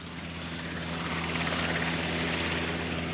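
A Coast Guard helicopter flies overhead in Shetland with a steady, throbbing rotor drone and engine whine, growing slightly louder over a few seconds.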